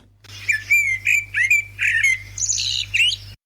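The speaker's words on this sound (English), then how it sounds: "This is the Eurasian blackbird, right? So this is its song." A Eurasian blackbird sings a series of clear, fluting warbled phrases separated by short pauses. The song is close and loud, with no talking.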